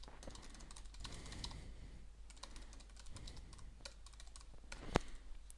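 Fingers type on a computer keyboard while playing a game, a steady stream of close, light key clicks with a few sharper presses, over a low background hum.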